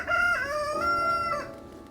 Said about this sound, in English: As soon as I start videoing, Pip has to start crowing.